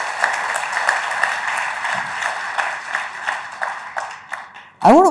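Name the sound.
audience applause at India Today Conclave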